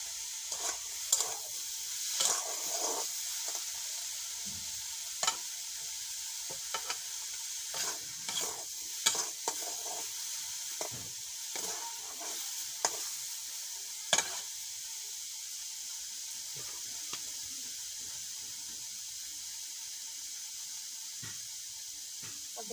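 Water hyacinth greens fry and sizzle in a pan while a utensil stirs them, giving a steady close hiss broken by repeated scraping and clattering strokes against the pan.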